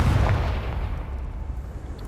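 A booming blast from the Confringo spell in a Harry Potter video game, a loud low explosion at the start that decays into a rumbling tail.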